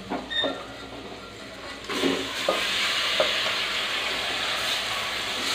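Chicken lands in a pan of frying masala with chili powder in the oil, and a soft sizzle swells and holds steady, with light stirring scrapes near the start, close and fairly quiet.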